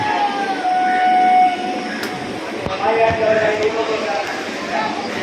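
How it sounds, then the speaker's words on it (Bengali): A Majerhat-bound local train rumbling along at Ballygunge Junction, a loud steady roll with metallic squeals and a brief sharp clank, while people talk nearby. "এখন ট্রেন হয়ে গেছে তো আমরা এই ট্রেনে উঠবো অলরেডি অ্যানাউন্সমেন্ট হচ্ছে বালিগঞ্জ জংশন"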